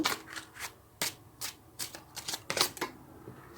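Tarot cards are shuffled by hand in quick riffling bursts and soft slaps, close and quiet, repeating in an irregular rhythm with no talk.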